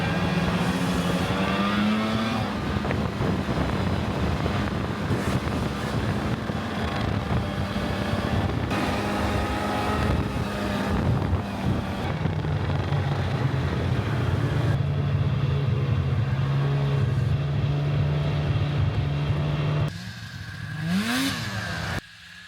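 Snowmobile riding through deep snow, its engine a strained continuous whine holding steady then shifting pitch, loud and near with wind buffeting the microphone, cutting off near the end.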